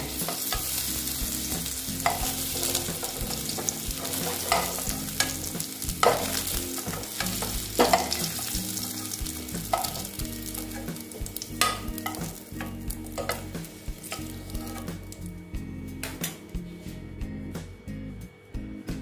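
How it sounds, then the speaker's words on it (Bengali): Potato pieces frying slowly in oil until reddish-brown, a steady close sizzle with regular spatula scrapes and clinks against the pan, the frying thinning and quieting toward the end. "আলুগুলো আস্তে আস্তে আমি ভেজে নিচ্ছি।"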